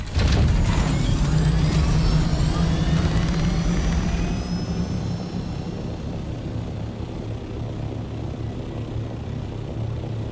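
A loud, steady ornithopter engine drone from the video game Dune Awakening, with a rumbling low roar and whining high tones that ease slightly in volume partway through.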